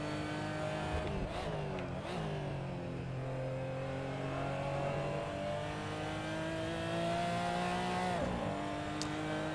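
A race car engine roars steadily in a racing game, its pitch sliding up and down through gear changes, loud and continuous with no talking.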